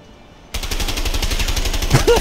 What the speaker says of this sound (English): Simultaneous shooting